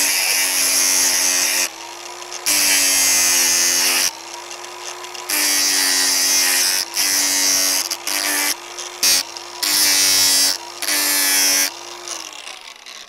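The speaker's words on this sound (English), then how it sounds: "So we're just going to run a test now where we sharpen these up" Lawn darts being power sharpened, with repeated loud buzzing bursts of a grinding tool starting and stopping in uneven stretches, close up, with a steady motor hum beneath.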